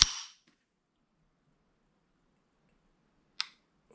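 A Kel-Tec CMR-30 trigger breaking with a sharp dry click, followed by near silence and a second, fainter click about three seconds later as the trigger resets, close and isolated.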